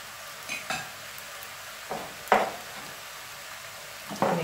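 Vegetable broth going into a pot of one-pot pasta with sausages and pesto, a few sparse scrapes and clinks of stirring over a quiet, steady background.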